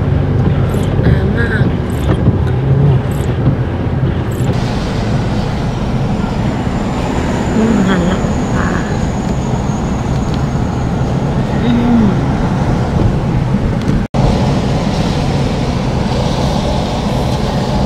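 A car winds down the curving mountain road of Doi Phu Kha in Nan, through thick fog and light rain, with a constant low rumble of engine and road noise close inside the cabin and faint occasional knocks.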